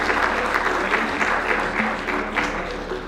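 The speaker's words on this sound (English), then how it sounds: "can I have a big round of applause for Sophie and Giles" Audience clapping for hosts Sophie and Giles at a London tech leaders keynote evening, a close, lively burst of applause that fades slightly toward the end, with low voices faintly underneath.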